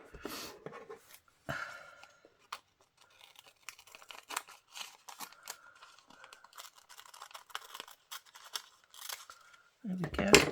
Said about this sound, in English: So I'm going to cut round it now.